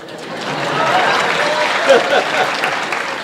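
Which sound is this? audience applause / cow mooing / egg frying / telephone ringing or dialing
audience applause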